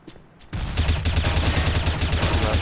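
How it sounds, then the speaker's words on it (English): Dense burst of gunfire from a video game firefight, sustained rapid shots filling the clip after a brief quieter lead-in, loud and close with no talking. "Grenade out!"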